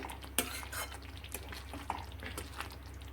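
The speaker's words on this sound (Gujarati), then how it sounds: "આપણે હાથથી ક્રશ કરી અને થોડી કસૂરી મેથી નાખીશું અને મિક્સ કરી દઈએ" A spoon scraping and clinking in a pan as whole-onion Kathiawadi curry is mixed after crushed kasuri methi goes in, with soft intermittent taps and stirring noises over a steady low hum, no voices.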